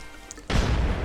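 A grenade blast in a first-person video game hits abruptly after a quiet moment, then rolls on as a loud, sustained low rumble that fills the rest of the moment.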